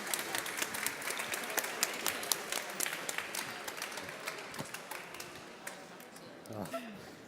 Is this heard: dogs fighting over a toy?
no